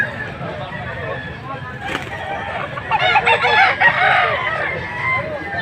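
A young gamecock stag crows at a fowl market in a grotto, a strained, uneven call rising mid-way amid clucking chickens, while people talk nearby.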